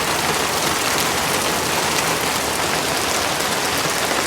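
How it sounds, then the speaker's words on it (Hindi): Heavy monsoon rain pours down in the mountains near Ukhimath on the way to Madmaheshwar, a dense, constant loud hiss of drops drumming on surfaces with no let-up and no voices. "आजकल डेली यहाँ ऐसा ही कुछ माहौल हो रहा है, भयंकर वाली बारिश।"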